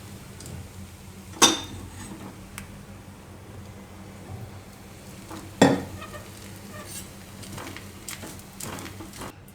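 A Kalimali bhaji thepla flatbread roasts on a hot pan with a low, steady sizzle, broken by two sharp clinks of a utensil against the pan and occasional faint taps.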